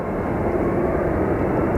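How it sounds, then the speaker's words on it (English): An airliner rolls along a taxiway at Phoenix Sky Harbor Airport, its engines giving a loud, steady, broad roar that holds constant from start to finish, close by and with no voices over it. "We do actually have a plane on the Bravo transition over here"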